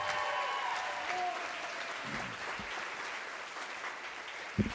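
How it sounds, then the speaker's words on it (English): An audience at a meditation event gives a sustained round of applause, dense steady clapping filling the whole stretch with a few faint tones underneath. "Give Jose one more round of applause, everybody"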